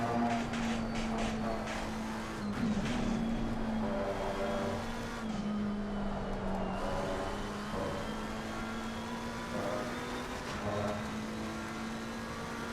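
A McLaren 720S in a racing video game circles Silverstone, its engine holding a loud, steady high drone that rises and falls with the throttle through gear changes, with brief tyre scrub and no voices.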